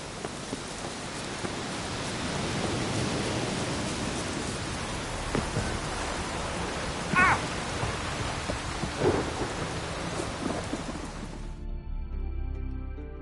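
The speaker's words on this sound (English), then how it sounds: "The storm, damn it." A Skellige storm in The Witcher 3 brings steady heavy rain under rolling thunder, with a couple of sharper cracks in the middle before the sound cuts off near the end.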